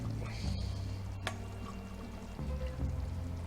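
Cooked rice, about 1.5 cups, is poured into stuffed bell pepper filling in a pan with the heat off, making a soft, brief rushing patter, close by, with no voices.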